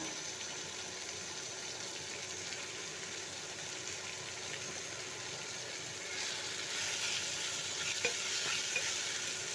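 Tomato with chili powder and turmeric sautéing in a pan for a Kerala fish curry, a steady soft sizzle with light stirring scrapes, fairly faint and continuous.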